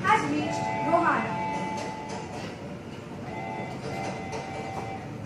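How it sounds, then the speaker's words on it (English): A faint train sound effect in a Grade 8 school play, the rumble of an arriving train with a brief tonal whistle at the start, heard under people talking on stage. "Passengers, kindly pay attention. The train has reached Rohana."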